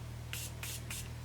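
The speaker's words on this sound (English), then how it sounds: "I always like to spray a little bit of that" Morphe Continuous Setting Spray mists onto a beauty blender in three quick, close, airy bursts evenly spaced, over a faint low electrical hum.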